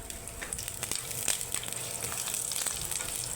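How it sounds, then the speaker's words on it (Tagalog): Ginger frying in hot cooking oil at the start of a squid adobo, a close, crackling sizzle with scattered pops and stirring scrapes, and no speech. "Lagay tayo ng mantika mga kasarap. Alright, umpisa na natin. Unahin natin ang luya"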